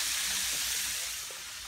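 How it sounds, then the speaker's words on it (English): Chicken fries in a pan with a steady, dense sizzle that hisses continuously, loud and close, with no voices over it. "It's chicken, it's frying up and stuff already."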